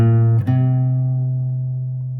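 Electric guitar in drop D tuning sounds a sustained low riff note from a song, with a brief pick attack near the start, then a long ringing decay, loud and alone.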